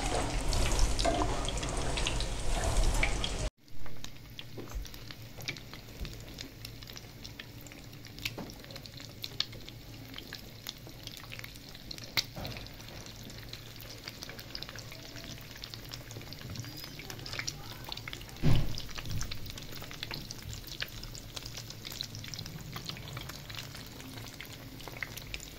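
Bread and potato toasts frying in a pan over a lowered flame, a soft continuous sizzle with occasional clinks and handling sounds, after a few seconds of louder rushing noise at the start.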